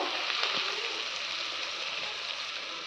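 Masala sautéing in a pan for a ridge gourd kootu, a continuous close sizzle like light rain, with a few faint stirring taps near the start.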